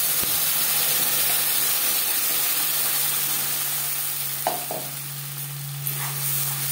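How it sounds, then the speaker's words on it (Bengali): Spice paste fries with garam masala tempering in a pan for a Bhola fish curry, making a steady soft sizzle and hiss with a couple of brief stirring scrapes near the end, close and alone. "ফোড়নের সাথে মশলা বেশ ভালো করে মিক্সড করে দেবো।"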